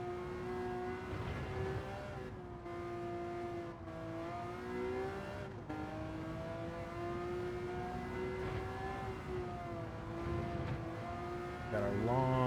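Race car engine from Gran Turismo 7 drones loudly and steadily throughout, pitch rising and falling with gear changes, with a sharp upshift near the end.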